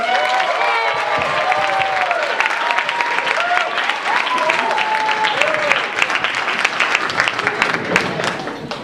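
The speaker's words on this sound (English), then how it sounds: "Y'all just clapped for me." A banquet audience at a heritage dinner applauds to welcome a keynote speaker, with loud sustained clapping and some cheering filling the room, and voices calling out over it.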